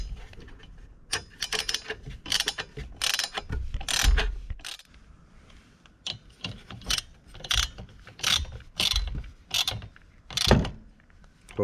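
A ratchet tightens a 16mm nut on a Peugeot 407 SW front suspension strut, sounding in close, irregular bursts of sharp clicks with short pauses between strokes.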